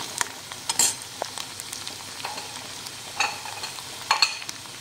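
Crushed garlic sautéing in hot oil with browned onion, a close crackling sizzle with scattered pops and several scraping stirs of a spoon.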